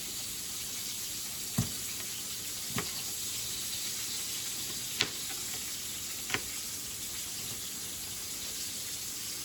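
Half an onion sizzles in a frying pan for smoked pork chops, a steady close hiss broken by a few sharp knocks and clatters.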